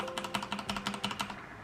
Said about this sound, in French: du bruit de ce clavier mécanique, je vais tellement kiffer